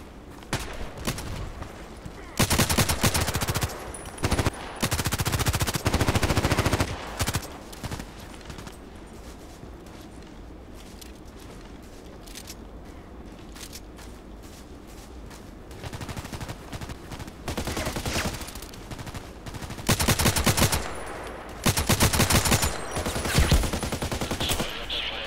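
Gunfire in the Contract Wars first-person shooter, several bursts of rapid shots breaking up quieter stretches of game ambience, with someone talking at times.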